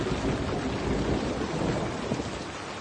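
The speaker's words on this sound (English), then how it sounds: "it's thundering as well" Heavy outdoor rain pours steadily in a thunderstorm, with a dense, continuous hiss and low rumbling thunder rolling underneath, loud and close throughout with no voices.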